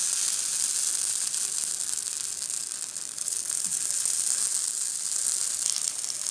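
Plantain slices fry on a hot griddle with a steady, close, even crackling sizzle. The hiss holds its level for the whole stretch and no one talks over it.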